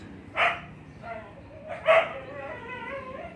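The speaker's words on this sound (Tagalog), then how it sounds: "Ito naman si Baldog, yung pinakasiga dito na ano, aso" Two short dog barks about a second and a half apart, fairly close, with a person talking in between and after them.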